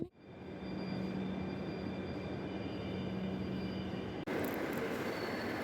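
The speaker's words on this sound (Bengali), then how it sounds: "এইমাত্র স্টেশনে একটা ট্রেন এসে দাঁড়িয়েছে মাত্র" A train arriving at a station rumbles loudly and steadily nearby, with a faint high whine on top and a brief break near the end.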